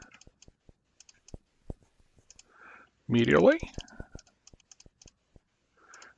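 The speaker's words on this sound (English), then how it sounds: "I'm clicking to see if there's any response here." Sharp mouse clicks on a high-fidelity musculoskeletal exam simulator, sounding as scattered single taps in an irregular rhythm, with one brief spoken word and a louder burst of another sound partway through.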